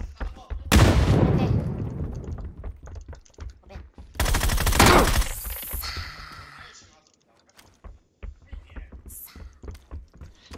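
Video game gunfire rips out in two loud, sustained bursts of rapid automatic shots, separated by a quieter stretch of scattered pops and clicks, with a few more sharp distant shots near the end.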